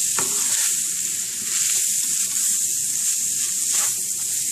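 Onions sizzle steadily in a hot pan with a bright, constant frying hiss, while a utensil scrapes and stirs through them now and then. No one speaks.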